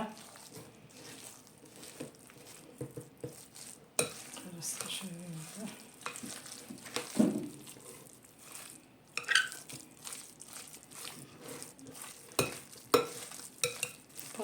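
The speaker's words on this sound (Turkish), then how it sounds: "Güzel şöyle bir bir harman edelim böyle karıştıralım." A spoon stirs a potato and leek filling for a frozen soda börek in a home kitchen, giving soft, irregular wet squishing and scraping strokes at close range with a few sharper knocks.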